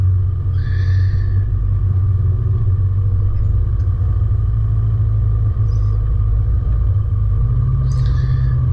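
Toyota Land Cruiser 80 series engine under load while climbing a steep rocky hill, heard as a loud, steady low rumble and drone with faint scrapes from the terrain.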